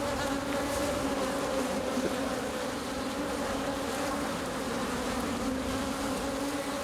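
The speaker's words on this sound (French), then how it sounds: "Elles sont en activité, elles sont à fond, ces abeilles là en ce moment." Honeybees buzz steadily around beehives near locust trees about to bloom, a dense, continuous droning hum of many insects that holds at an even, fairly loud level throughout, with no voices.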